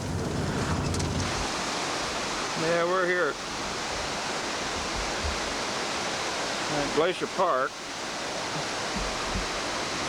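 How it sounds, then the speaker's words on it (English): A creek in Glacier Park rushes down over rock with a steady, loud, broadband roar. Someone speaks briefly over the flowing water. "It's a beautiful stream, creek going down through here. It's going right down through this rock."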